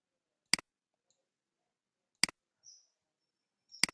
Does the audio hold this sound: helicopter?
no